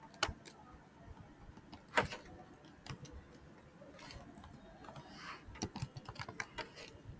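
Computer keyboard keys clatter in soft, irregular clicks as SQL is typed in, with a few sharper taps standing out over a quiet background.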